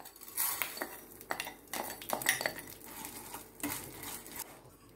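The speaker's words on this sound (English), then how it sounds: "initially heat the pan, add 1/2 teaspoon ghee, here goes vermicelli" Dry vermicelli stirred and roasting in a little ghee in a hot pan, giving irregular scraping, rustling and metallic clinks of a spoon against the pan, close and moderately loud with no talking.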